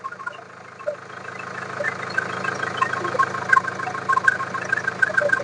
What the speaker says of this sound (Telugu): చాలా స్మూత్ అంటే స్మూత్ గా స్టార్ట్ అయిందండి వెహికల్